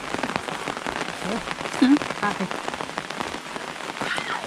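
Steady rain patters on a surface, a continuous hiss of drops with a faint voice briefly audible underneath.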